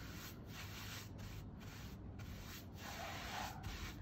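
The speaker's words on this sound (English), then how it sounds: "get your sandpaper, go side to side like so, just get that nice and smooth" Steady, continuous scratchy rubbing of sandpaper on wood, back-and-forth strokes with brief rhythmic pauses, close up and fairly loud.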